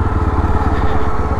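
A Yezdi Roadster's single-cylinder engine thumps steadily at idle, a close, loud pulsing beat with a throbby low rumble and no talk over it.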